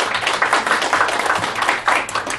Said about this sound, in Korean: 박수 맞아 주시기 바랍니다